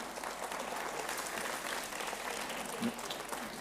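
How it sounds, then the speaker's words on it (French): Steady, dense applause from a concert audience for a wind band, continuous throughout with no pauses, fairly loud and close. "Voilà, on peut les applaudir."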